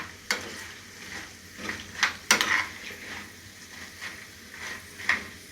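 Popcorn being stirred in a pot to keep it from burning: a spoon scrapes and knocks against the metal in irregular strokes over a faint sizzle, with several sharper clanks, close and without speech.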